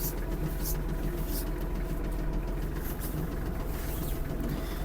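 A Kubota GL-320 mini tractor engine idles while warming up, a steady low diesel rumble close by, with faint intermittent hissy noises above it and no talk.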